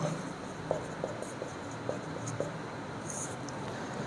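A pen scratches across paper as equations are written, producing soft, close scraping strokes with small taps at irregular intervals, quiet throughout and free of talking.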